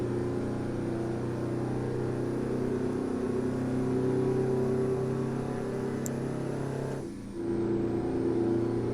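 Loud, continuous howl of a two-stroke truck engine in American Truck Simulator, holding a steady high rev with one short dip from a gear change before pulling back up, no voices.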